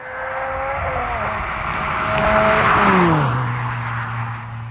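A car drives past close by, its engine tone rising as it approaches, then dropping sharply in pitch as it passes and settling into a steadier lower hum moving away, with a broad rush of tire and wind noise.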